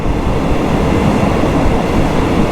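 A long-distance passenger train heading toward Nakhon Pathom carries riders along, its wheels rumbling and clacking steadily over the rails in a dense, continuous noise heard from on board.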